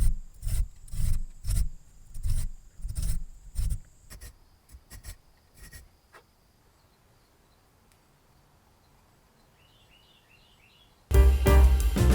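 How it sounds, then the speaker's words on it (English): A triangle file recuts teeth on an old pre-WWI saw blade: rapid rasping strokes in a steady rhythm at close range, then a few scattered strokes fading into quiet before a loud noisy burst at the end. "This is done with a triangle file."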